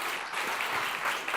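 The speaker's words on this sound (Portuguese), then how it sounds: "salva de palmas pro Kilderson, pessoal" An audience at a PHP developer community talk claps for a speaker in a steady, dense burst of applause that fills the room and holds throughout.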